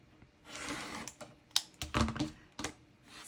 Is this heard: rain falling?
no